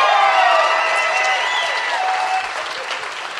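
A live audience at an evening show gives sustained applause with scattered cheers, loud at first and gradually tapering off.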